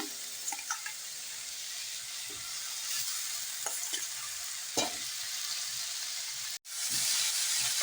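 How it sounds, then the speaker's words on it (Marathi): Cooked rice is stirred gently with carrots in a pan for gajar bhat, producing a soft, continuous sizzle with intermittent scraping clicks of a spoon, close up, ending in a brief dropout and a louder hiss. "हलक्या हाताने आपल्याला मिक्स करायचं आहे"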